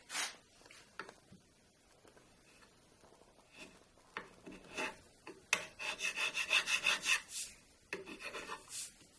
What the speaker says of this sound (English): But first I'm going to putty. There are some tiny little cracks.